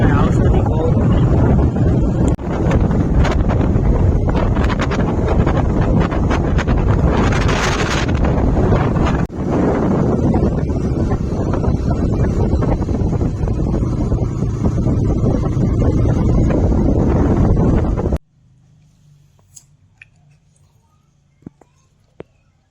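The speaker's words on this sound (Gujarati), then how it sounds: "પવન ફૂલ છે એટલે અવાજ" Strong wind buffets an outdoor microphone with loud, rumbling roar for most of the stretch, cutting off abruptly into near quiet with a few faint clicks; a voice is partly buried in the noise.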